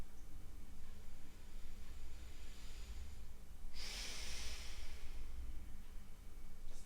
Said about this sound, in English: Start to deepen your breath.